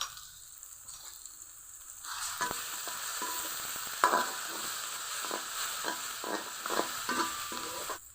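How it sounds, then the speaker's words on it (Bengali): Blended spice paste added to lightly fried onions in a pan: quiet hiss, then a sudden burst of sizzling with rhythmic stirring scrapes and clinks, close by and without speech. "পেঁয়াজগুলো হালকা ভাজা হয়ে গেছে, এখন পেস্টটা দিয়ে দিব।"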